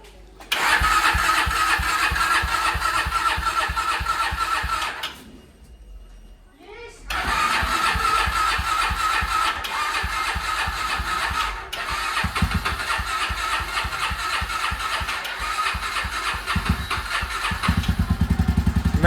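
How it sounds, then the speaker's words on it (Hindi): A motorcycle engine cranks and catches, then settles into a steady, loud, close idle that runs for most of the stretch, briefly dipping and restarting partway through; no speech is heard over it. "बाइक ऑन करते हैं"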